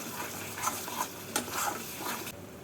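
Fried masala with kasuri methi being stirred in a pan for mutton malai kofta, soft sizzling with a few scraping and clinking spoon strokes, close and fairly quiet, without talk.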